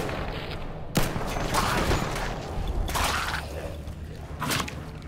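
Gunfire in the video game Fallout 4, a few sharp shots and bursts over a busy background of game noise, moderately loud with no clear talk.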